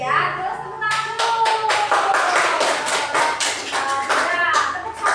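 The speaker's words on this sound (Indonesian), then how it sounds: "Terus tepuk tangan dulu" Students in a classroom applaud a presenting group, a dense run of brisk hand claps with sharp taps starting about a second in and continuing steadily, with children's voices mixed underneath.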